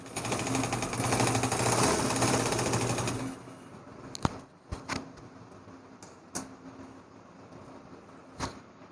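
A sewing machine stitches a baby frock in a fast, loud, continuous whir for about three seconds, then stops, followed by a few sharp clicks and handling taps.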